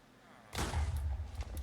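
A sudden deep explosion in Minecraft goes off while bees are being killed, a heavy rumbling boom that rolls on with a few sharp crackles afterward.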